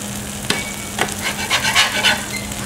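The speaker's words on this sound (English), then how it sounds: "Get that nice and toasted up a little bit, real quick." A burger bun toasts on a hot griddle, giving a steady soft sizzle with a few scraping stirs and light clicks, close by and without talk.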